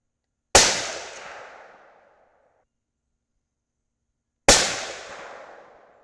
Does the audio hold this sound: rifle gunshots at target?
yes